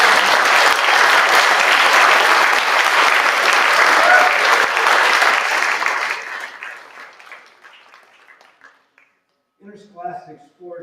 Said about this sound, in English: So let's give a round of applause for all of you.